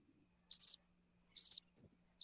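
A soundboard cricket-chirp effect plays three short, bright bursts of rapid chirping, evenly spaced and isolated against silence.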